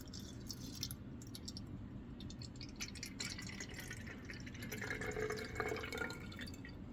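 Faint water being poured into a can calorimeter, about 100 milliliters filling it a third full, a soft trickling and dripping that grows slightly louder toward the end.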